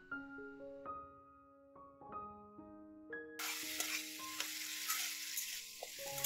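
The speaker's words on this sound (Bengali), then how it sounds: "মাছের ডিম দিয়ে দেব।" Fish eggs frying in a pan for a Malabar spinach dish, a loud broad sizzle bursting in midway and continuing steadily, after a quieter stretch with tonal ringing in the background.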